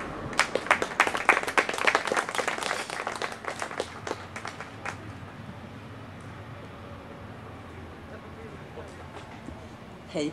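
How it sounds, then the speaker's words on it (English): Audience at a poetry reading applauds as a reader walks up from the back, a lively burst of many hands that thins out and fades after a few seconds into quiet room murmur. "A long round of applause for this very long walk."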